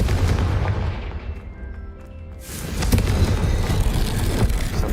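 Fire spell explosions in the Hogwarts Legacy video game: a loud rumbling blast fades into a brief lull, then a second heavy burst of booming crackle roars back, dense and continuous, with no talk.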